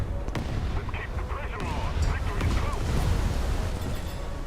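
Cruiser naval guns in a naval warfare video game fire in several sharp booms, the first loudest, followed by rolling rumble, with someone talking over them.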